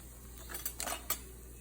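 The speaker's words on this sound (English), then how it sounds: "Go ahead and stick a spoon in it so you can see." A spoon is pushed into a freshly baked shepherd's pie with a crusty potato top, giving a few soft, close scraping and tapping sounds against the dish over a quiet low hum.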